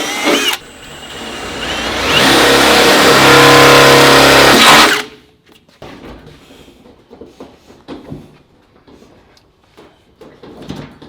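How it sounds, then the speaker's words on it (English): A drill bores a hole through a truck bed on a burnout rig build, a loud, steady, harsh whine lasting about four and a half seconds, then dropping to quieter scattered clanks and handling noises. "So we're gonna drill a hole right here."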